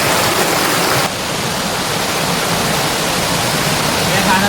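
Bobby's Falls, a waterfall on a river, gives a steady, loud, close rush of falling water that holds for several seconds without letup.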